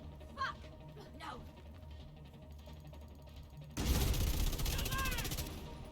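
An LMG fires in the video game The Division 2, starting as a sudden loud, sustained burst of rapid shots after a quieter stretch where a person talks.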